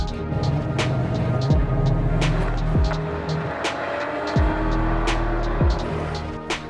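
Tomica diecast cars, a Nissan Skyline GTR against a Subaru Impreza WRX, race down a drag track, their small wheels giving a steady rolling rumble with repeated sharp clicks and knocks over the track joints.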